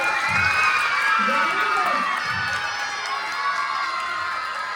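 A large audience at a Roza Jashn program in Ghouse Nagar cheers and shouts loudly, children's voices whooping in a dense, sustained crowd roar that fills the room.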